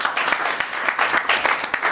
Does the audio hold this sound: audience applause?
yes